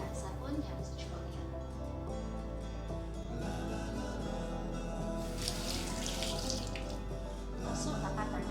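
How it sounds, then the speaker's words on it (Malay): Hands being washed with soap under a running kitchen tap during food preparation, a steady close splash and trickle of water throughout, with a voice talking over it. "Langkah pertama ialah basuh tangan dengan air dan sabun yang secukupnya"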